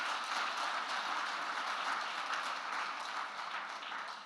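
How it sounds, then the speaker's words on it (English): A conference audience applauds steadily, a dense wash of many hands clapping at moderate distance that holds evenly and tapers slightly at the end. "We can just do a little round of applause."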